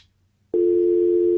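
A telephone line tone sounds after a brief silence, starting about halfway through as one loud, steady, unbroken tone that holds to the end.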